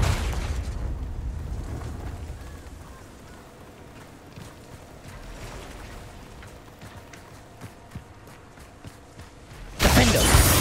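A heavy boom from the Confringo fire spell in Hogwarts Legacy, loud and rumbling at first and fading into a crackling tail. A second burst arrives sharply near the end.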